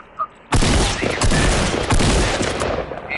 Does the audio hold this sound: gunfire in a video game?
yes